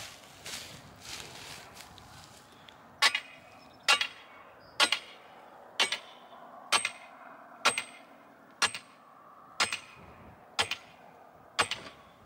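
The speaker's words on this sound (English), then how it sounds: "I just drive these in with a sledgehammer, post maul." Heavy, evenly spaced metal-on-wood impacts, about ten sharp blows roughly one second apart, ringing at moderate distance after a few softer rustles, as a sledgehammer drives fence posts into the ground.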